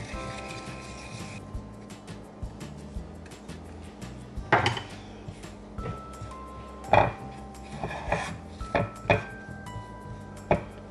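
Flour and a pinch of salt are mixed in a bowl for chocolate chip cookies, with a utensil clinking and knocking against the bowl in irregular bursts, close and fairly quiet between the louder strikes.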